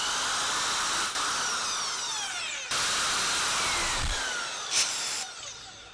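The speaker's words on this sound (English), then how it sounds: "I'm gonna use the more sophisticated drill this time" A power drill bores into a broken bolt on a Jaguar S-Type, a steady loud whine with brief dips and pauses, throwing metal shavings as it works alone without speech.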